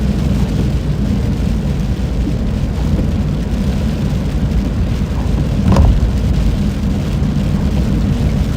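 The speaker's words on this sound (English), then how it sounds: "this storm in front of us is starting to ramp up a little bit again" A building thunderstorm during live storm chasing, with steady heavy rain and rumbling wind noise over a low drone, a short sharp crack midway, and no talk.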